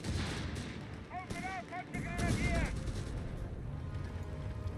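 Grenade blasts and gunfire rumble through a Company of Heroes 3 desert battle against Panzerjäger tank destroyers, a steady, heavy wash of explosions and shots beneath talking, with brief whistling tones overhead.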